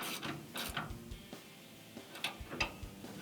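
Bolts on a truck bed rack brace are tightened with a tool, giving a series of sharp metallic clicks and ratcheting ticks in irregular bursts, close by.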